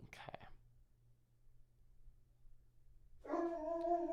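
A dog howls indoors in a room, a tonal wailing cry rising near the end after a brief whispery sound and quiet hum.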